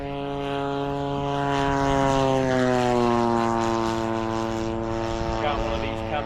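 Steady, droning propeller engine of an RC model P-47 Razorback plane flying, a strong tonal buzz that slowly shifts pitch as it passes, loud and continuous, with people talking over it.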